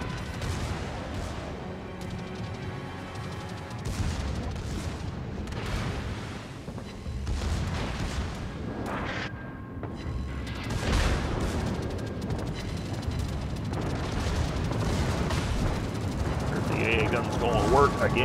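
Secondary guns fire from both sides of a warship in World of Warships, a rolling series of booming reports and blasts over continuous battle noise, with a voice talking through it.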